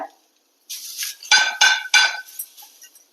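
Grated coconut being sautéed in a pan for a red aval (poha) laddu, heard as a few separate bursts of stirring and scraping against the pan, fairly close and clear, with no talk over it.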